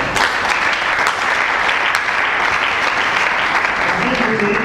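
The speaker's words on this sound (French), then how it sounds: "Est-ce qu'on va acclamer la vie du Père?" A church congregation claps loudly and continuously in strong, dense applause that holds steady throughout, with a few sharper claps standing out near the start.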